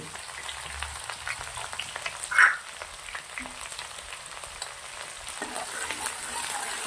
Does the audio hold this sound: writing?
no